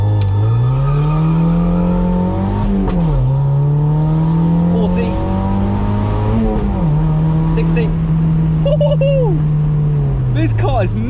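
A project car pulls hard from 0 to 60, heard from inside the cabin, its engine droning loud and close as revs climb through several gear changes with brief dips between shifts, and a voice speaks over it near the end.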